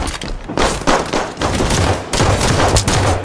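Rapid gunfire from the video game Halo 5 during an arena slayer match, a dense run of loud overlapping shots and thumps lasting several seconds with no talk.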